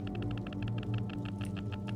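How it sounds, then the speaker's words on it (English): Obstacle sonar in the video game 1428: Shadows over Silesia ticks out a rapid, regular run of short bright clicks over a steady low game drone. The clicks are evenly spaced and close. "the clicking sound is the obstacle sonar"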